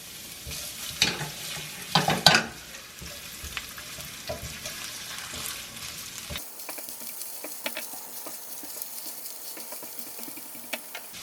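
Ginger slices frying in hot cooking oil for chicken tinola, a steady close sizzle with a few louder clattering stirs early on, then a quieter, even crackle to the end.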